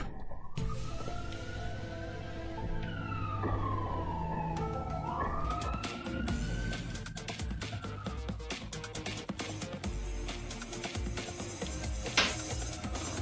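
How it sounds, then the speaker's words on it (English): A wailing ambulance siren rises and falls in long sweeps amid busy traffic noise, fairly distant and continuous. "why is there an ambulance?"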